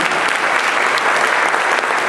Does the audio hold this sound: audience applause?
yes